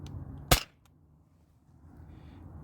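A Sabre 68 home defense launcher fires a single lightweight 3.6-gram nylon ball, producing one sharp, loud pop, followed by a quiet room hum with no talking.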